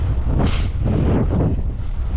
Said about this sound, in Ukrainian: Ну Вітер такий.